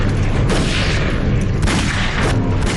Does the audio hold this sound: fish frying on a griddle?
no